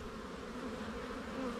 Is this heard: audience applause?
no